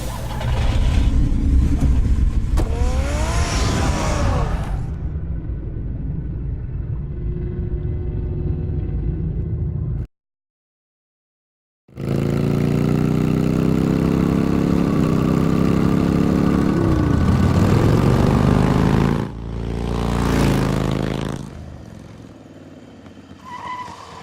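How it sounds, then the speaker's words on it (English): Batman's car engine roars and revs loudly, with rising and falling pitch sweeps, tire skids and a brief cut to silence before the engine surges again and drives off. "Get the car ready, Alfred."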